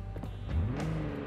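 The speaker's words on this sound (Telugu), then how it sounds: "మీకు ఇంజన్ సౌండ్ కూడా చూపిస్తా ఒక నిమిషం" Short burst of a car engine idling and briefly revving in Watch Dogs 2 at a showroom, a low throaty hum with a quick rise in pitch, close and steady, with no talking.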